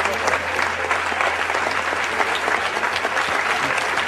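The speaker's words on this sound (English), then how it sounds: "You know why I applauded." A room full of people clapping, dense steady applause at moderate volume that carries on without a break.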